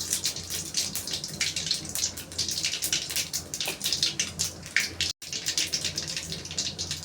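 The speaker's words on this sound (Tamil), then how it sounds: "இப்போ கடுகு பொரிஞ்சிச்சு." Mustard seeds, chana dal and urad dal spluttering in hot oil for curd rice, a dense continuous crackle of rapid pops with no speech, steady throughout apart from one brief dropout.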